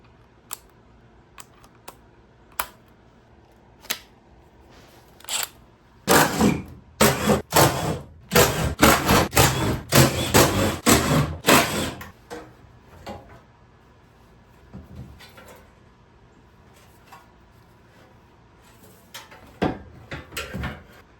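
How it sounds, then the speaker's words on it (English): Plastic and metal trim being pried and pulled out from beneath the rear seats of a Toyota Tundra, a dense run of close, loud clicks, clunks and rattles in the middle, with scattered sharp taps before and after. "Got to remove this structure from under the rear seats."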